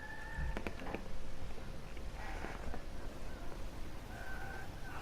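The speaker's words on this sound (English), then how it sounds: "You can hear someone crying." A faint, wailing cry from a distressed character in the video game GTA V, rising in short tonal bursts over a constant hiss of wind-like ambient noise.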